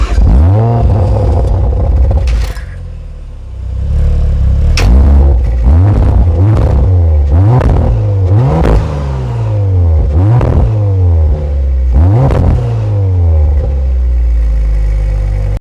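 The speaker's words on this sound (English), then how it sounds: "give a little rev and a start up and see what it sounds like" An Audi RS5 engine starts and is blipped repeatedly, each sharp rev rising and falling in a steady series of loud, close bursts over a throaty idle.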